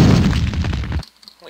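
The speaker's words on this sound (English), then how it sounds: "there's grenades being flung at me. Those German stick grenades." German stick grenades exploding in the WolfenDoom game, a loud, close boom with a rumbling tail that cuts off abruptly, then near-silence with a voice faintly present.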